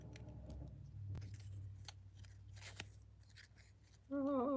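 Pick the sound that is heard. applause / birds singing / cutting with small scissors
cutting with small scissors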